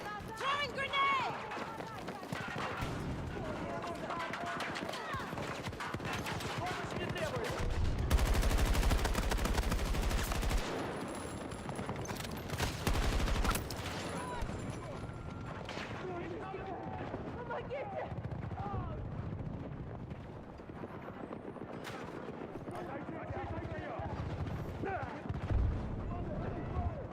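Gunfire and a grenade blast in a video game, with dense rapid shots throughout and a heavy low boom near the middle, mixed with game voices calling out over the combat.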